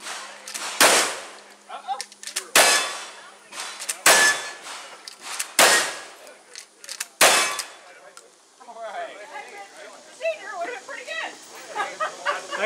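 Rifle shots strike steel targets on a shooting stage: five loud, sharp reports about a second and a half apart, each ending in a metallic ring. People then talk at the end.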